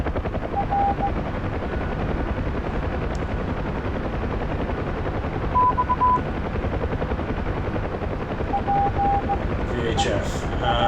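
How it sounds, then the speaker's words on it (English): Gunfire aimed at a UH-1 helicopter in the DCS flight game, a steady rotor drone with faint rattling shots mixed in, and a voice speaks over it. "Oh, someone's shooting at me."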